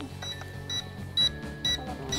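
RC quadcopter transmitter for a YKS FPV K5C drone beeping in short, high, repeated chirps at a regular interval, fairly loud over a busy background with no talk.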